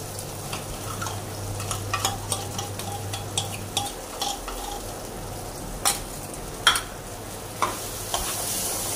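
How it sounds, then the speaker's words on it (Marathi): A ground spice paste is stirred into frying onion and tomato for butter paneer: a spoon scrapes and taps the pan in an irregular rhythm over a steady soft sizzle, close by, with no voices. "हे आपण आता कांदा आणि टोमॅटोच्या ह्याच्यामध्ये मिक्स करून घ्यायचंय"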